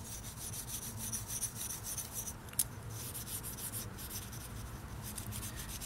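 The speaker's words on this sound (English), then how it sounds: "Just a little light rub. Take off that surface rust." Steady, close scratchy rubbing as surface rust is worked off a SOG Pillar fixed blade knife, a continuous quiet rasp with one small sharp tick partway through.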